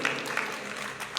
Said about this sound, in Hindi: चलते हैं जोरदार ताली बजाकर एक दूसरे को धन्यवाद देते हैं